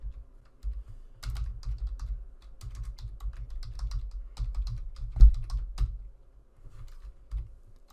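Typing on a computer keyboard, close and fairly quiet, irregular bursts of key clicks with short pauses and one sharper tap.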